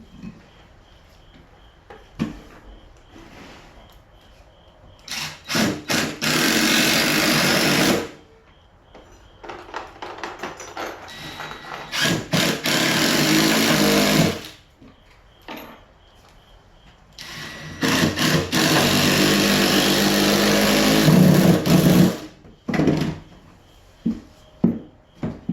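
A power drill drives short screws into a mobile home floor, whining loudly in three long sustained runs with brief stops and starts, separated by quieter stretches of handling noise.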